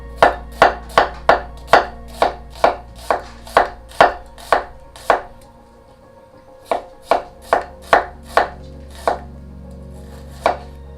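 A knife slices pineapple into thin slices for spicy pineapple fried rice, sharp rhythmic chops on a board in quick runs with a short pause, close and loud, no talking.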